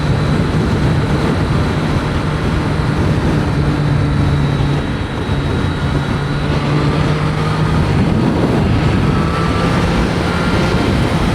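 A motorcycle cruising steadily on a highway in fourth gear at about 65 mph, with a continuous loud engine drone and rushing wind, no clear shifts or pauses throughout.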